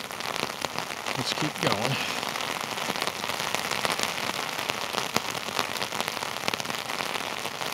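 Heavy rainstorm drumming on a city main street in Norwich, Connecticut, a dense, constant hiss with scattered drip ticks, and someone talking briefly near the start.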